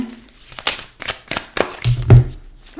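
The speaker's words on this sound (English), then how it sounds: "Okay, one more shuffle" Tarot cards are shuffled by hand in a short burst of several soft riffling flicks and slaps, close and fairly loud, with no talk over them.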